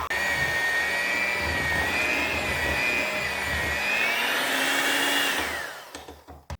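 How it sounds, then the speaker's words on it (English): Electric hand mixer whirring steadily through royal icing made with powdered sugar, a loud continuous motor whine with a slight pitch drift, winding down and stopping near the end. "You could also put this in a hand mixer."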